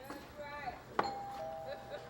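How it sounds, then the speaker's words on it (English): A house doorbell chime at a home for a new resident rings once with a bright tone that lingers and fades, fairly faint, with people talking around it. "I rang the doorbell so I can hear how it sounds."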